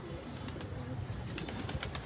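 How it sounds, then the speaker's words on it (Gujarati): Pigeons coo and flutter amid a steady outdoor wash of noise, with soft repeated calls and some brisk wingbeat-like bursts toward the end. The racing pigeons are flying high above. "તો જો કબૂતરા બહુ ઊંચા ઉડે છે."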